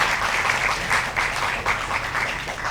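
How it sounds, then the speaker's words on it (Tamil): Audience applause at a Tamil film audio launch event, steady dense clapping from a large crowd filling the whole short stretch, no speech over it. "அதுக்கு நீங்க ஒரு கைதட்டு கொடுத்து அவரை வாழ்த்து."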